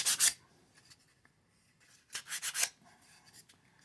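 Sandpaper of 120 grit rasps against a handmade wooden box in two short bursts of rubbing strokes, one at the start and another a couple of seconds later, close and fairly loud with quiet between.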